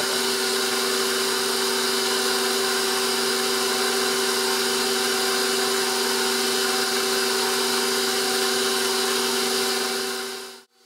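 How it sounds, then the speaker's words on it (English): Electric mixer running on low speed through vanilla cupcake batter, a steady loud whirring drone that holds evenly for about ten seconds before cutting off abruptly, no talk. "We're going to mix this on very low speed,"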